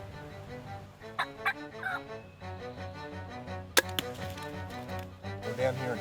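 Wild turkeys gobble on a Tennessee hunting property, several sharp bursts of gobbling at moderate distance over a faint outdoor background, with one louder close call partway through.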